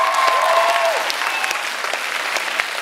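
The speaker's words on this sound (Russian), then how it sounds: "Аплодисменты." Steady applause from an audience at a student comedy show (KVN team contest at an agrarian university), loud and continuous throughout, with faint voices and whistle-like tones briefly audible near the start.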